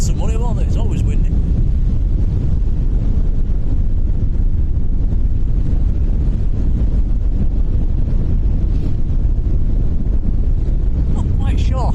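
Steady, loud wind buffeting the microphone at Lanzarote Airport in the Canary Islands. The roar is continuous and broadband throughout, with only faint hints of other sound beneath it.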